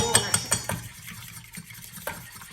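An egg and gelatin mixture is stirred in a pot, a utensil knocking and scraping against the metal sides in a few sharp clinks early on, then softer scraping with a faint sizzle beneath.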